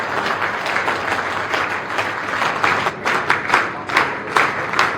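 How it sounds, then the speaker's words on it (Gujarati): A standing audience gives loud, sustained applause after a saint's discourse, with dense overlapping claps that swell and dip in waves throughout. "એક વખત તાળીઓથી આપણે એમને ઊભા થઈ અને સંબોધિત કરશું"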